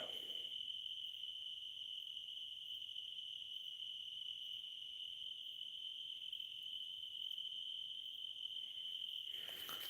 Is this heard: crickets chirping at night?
yes